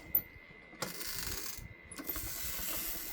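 A Stampin' Up Cut & Emboss die-cutting machine handle is cranked with plates and a die loaded, giving faint mechanical ratcheting and clicking in a couple of short bursts, close and quiet.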